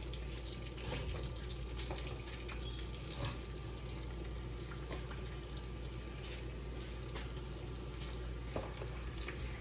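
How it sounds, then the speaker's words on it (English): Shrimp dropped into melted butter in a pan, giving a dense, even sizzle that holds steady throughout with only faint small crackles on top. "I'm gonna go ahead and throw my shrimp in there."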